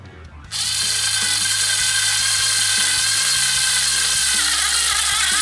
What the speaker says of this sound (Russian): Она достаточно мощная и имеет такой медленный ход, и удобно что-то сверлить